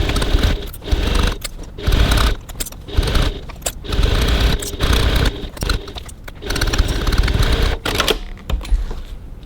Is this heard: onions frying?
no